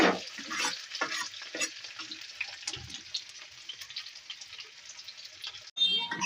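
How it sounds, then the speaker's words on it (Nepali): Mushrooms and spices fry in a pan with a bright, crackling sizzle, broken by repeated scraping stirs and occasional louder spatters near the end. "फ्राई हुन दिने, अलिअलि ब्राउन हुन दिने।"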